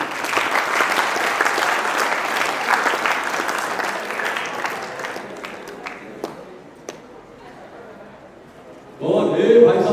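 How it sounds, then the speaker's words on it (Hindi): An audience at an acting masterclass breaks into loud sustained applause that gradually thins out, followed by a burst of voices and louder noise at the end. "इनके लिए जोरदार तालियां।"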